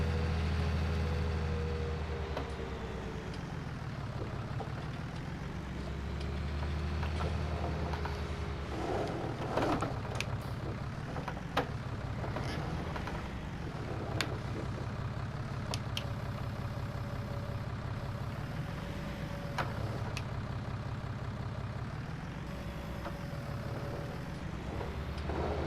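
A tractor in Farming Simulator 19 drives along with a steady engine drone that swells and falls in slow waves, plus occasional clanks and a brief hiss, with no talking.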